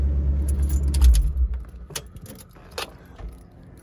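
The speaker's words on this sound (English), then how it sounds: "Also the power trunk works." Power trunk of a 1976 Cadillac Eldorado convertible operating, a low mechanical motor rumble followed by a few sharp clicks and metallic clunks, close and moderately loud, with no speech.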